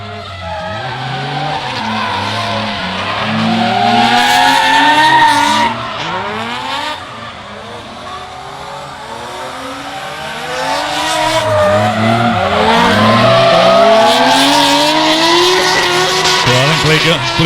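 Drift cars battle in a knockout event at Meremere Drift Park. Tyres squeal loudly and continuously while engines rev and wail through the turns, and a commentator talks over the noise.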